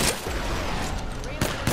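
Dense, rapid gunfire from the video game Apex Legends in a short, busy burst, with a voice partly mixed in.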